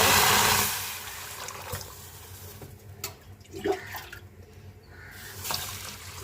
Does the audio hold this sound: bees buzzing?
no